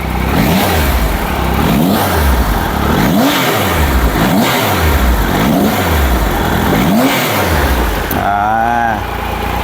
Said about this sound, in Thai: เดี๋ยวมาฟังเสียงเครื่องยนต์3สูบเครื่องพันสองนะครับ